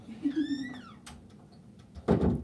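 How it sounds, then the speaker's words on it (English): A cat meows once with a rising then falling tone, fairly close, followed by a brief rustle and a knock. "I just heard a cat meow."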